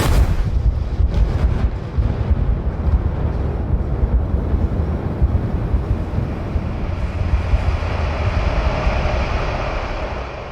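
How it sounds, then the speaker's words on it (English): A nuclear explosion, a deep, sustained roar of rumbling low-end energy with a wind-like rushing layer, loud and continuous throughout without any speech. "A nuclear explosion."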